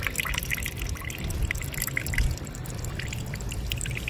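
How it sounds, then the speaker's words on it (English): A thin stream of water trickles and splashes steadily and close by, a continuous bright hiss without pause during a Hercules challenge. "Okay, so we have a water stream right here."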